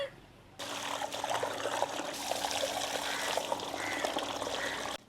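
Tap water runs steadily into a container as crab is washed for a spicy Jaffna-style crab curry, a continuous close splashing trickle lasting several seconds with no talk.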